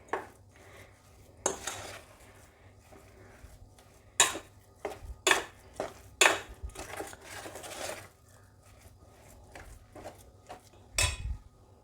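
A semolina and coconut mixture is stirred in a pan, giving irregular scraping and knocking strokes of a utensil against metal, separated by quiet gaps.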